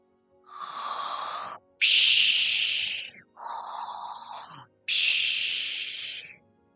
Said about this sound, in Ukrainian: Не треба заважати, коли так хропе.